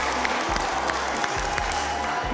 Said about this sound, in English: Give Lily a big round of applause